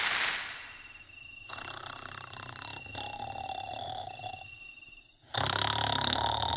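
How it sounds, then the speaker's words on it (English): Loud human snoring, a deep rasping rumble drawn out over several seconds with a brief pause before another heavy snore starts, close and harsh. "some people can generate snores as loud as a howler monkey"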